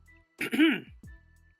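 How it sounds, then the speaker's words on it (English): A single throaty cough or throat-clearing, brief and close, followed by a short vocal sound and quiet. "Sorry if I cough a little bit during this stuff."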